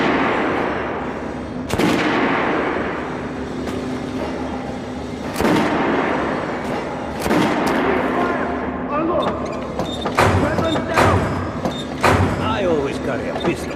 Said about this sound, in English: Shotguns are always good for stopping power at close range.